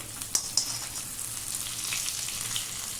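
Stuffed bitter gourd fries in a pan with little oil, giving a steady close sizzle broken by a couple of sharp clicks as it is stirred and turned.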